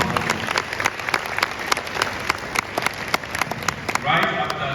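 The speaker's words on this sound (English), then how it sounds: "A round of applause for them." Audience applause at a diaspora summit in Ghana for the planning committee, steady dense clapping across the room with sharp individual claps, swelling louder near the end.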